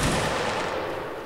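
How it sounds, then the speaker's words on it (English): A loud burst of gunfire, a single volley fired into the air as a gun salute, cracking at once and decaying into a dense, fading roar. "Gun salute in the air, 45 degrees, present."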